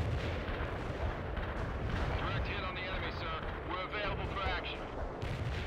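Artillery fire and explosions destroy a medium tank in the World in Conflict strategy video game, a dense, continuous roar of blasts and crackling gunfire with someone talking over the battle.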